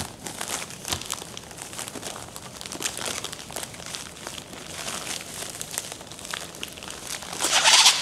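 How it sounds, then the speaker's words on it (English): A pair of shoes is shoved into a padded flat rate shipping envelope, producing continuous close crinkling and rustling plastic with small crackles, growing a little louder near the end. "So padded flat rate envelope, shove them on in here."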